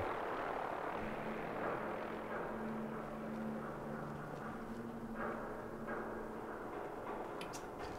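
A steady, loud rotor roar with a low droning hum throughout, a nearby helicopter hovering and descending in the video game Fallout 4, broadband and continuous.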